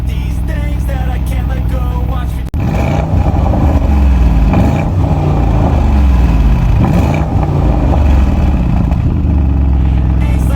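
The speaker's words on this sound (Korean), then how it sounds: "자 그럼 바로 배기음 들어보실게요 악셀 쳐줘" A deep V8 exhaust on an Audi RSQ8 revs hard and loud, climbing and dropping repeatedly with a rumbling, crackling roar, close up and continuous.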